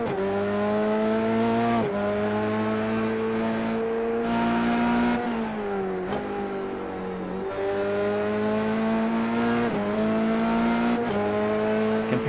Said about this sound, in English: You can just hear how much QT is trying to battle the tire slippage in some of these